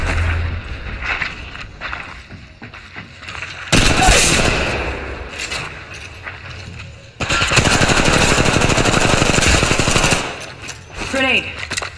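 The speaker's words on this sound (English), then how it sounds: "Opening fire." Rapid automatic gunfire in Apex Legends Mobile, two long sustained bursts of dense rattling shots, loud and close, with quieter scattered shots and game sounds between them.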